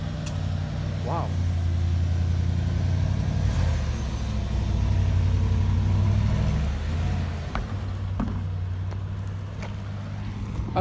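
Bentley Continental GT engine revving close by, a deep steady drone with rising and falling throttle blips and a few sharp rev spikes toward the end.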